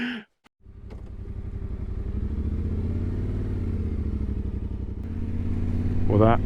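Motorcycles start up and ride off across the world's largest salt flat in Bolivia, engines droning steadily and building louder, with brief voices at the start and end.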